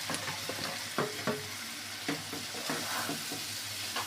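Fried potatoes tipped into cooked spice masala and stirred, a soft steady sizzle punctuated by several sharp spoon scrapes and knocks against the pan.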